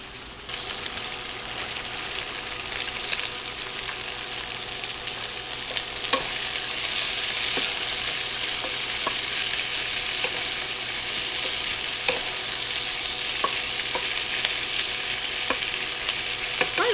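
Half a bag of potatoes fries steadily in a skillet for a one-pan meal with cabbage and sausage, a continuous loud sizzle with occasional clicks of stirring, close and alone.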